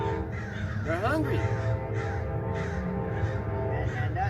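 Hungry crows cawing outdoors, a few harsh repeated calls, moderately near, rising over a steady background while someone talks.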